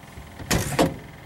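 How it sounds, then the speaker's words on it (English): Handbrake released on a 1956 Chrysler Windsor, heard as two short mechanical clunks about a third of a second apart inside the car, fairly close and otherwise quiet around them. "our handbrake, where if I pull it out, it locks the car up"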